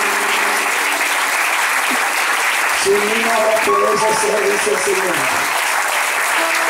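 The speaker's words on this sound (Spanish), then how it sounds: "damos un aplauso al Señor" Sustained congregational applause fills a church service, a steady wash of clapping running throughout while a preacher speaks over it.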